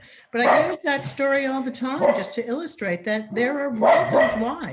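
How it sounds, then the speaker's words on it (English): A dog barks in the background under a man's continuous speech, a few short yips and barks mixed in, fairly faint compared with the talking. "Sorry for the barking."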